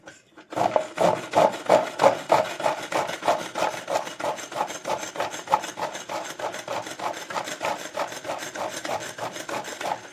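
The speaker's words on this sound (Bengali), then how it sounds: "পেঁয়াজ কাটবো আজকে বাঁধাকপিটার জন্য। কাটছি," A hand-operated kitchen chopper cuts onions in quick rhythmic strokes, each giving a rasping whirr. The strokes repeat evenly for several seconds, close by and fairly loud.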